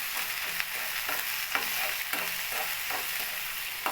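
Eggs and onions frying in oil in a pan sizzle loudly and steadily, with rhythmic scraping as a spatula stirs them every half second or so.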